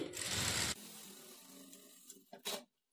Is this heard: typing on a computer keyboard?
no